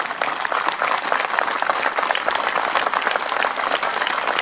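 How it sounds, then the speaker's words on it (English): Sustained audience applause at a September 11 anniversary memorial ceremony, dense steady clapping from a large crowd filling the space without pause, fairly loud and even throughout. "you give one more round of applause for opening their hearts to us"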